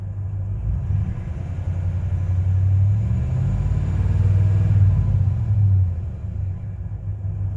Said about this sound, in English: It sounds like the motor's getting a little ticking, like a manifold leak.